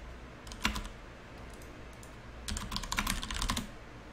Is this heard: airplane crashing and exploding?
no